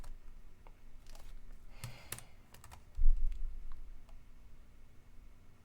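Sparse clicks of typing on a computer keyboard, a few keystrokes in quick bursts, close and fairly quiet, with a soft thump partway through.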